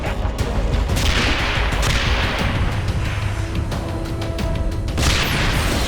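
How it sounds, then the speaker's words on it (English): Long-range cannon fire from sledgehammer units in Anomaly 2, a continuous loud barrage of booming shots and explosions with several sharper impacts, heard without any speech. "They have long-range cannons, so they work best firing across open terrain."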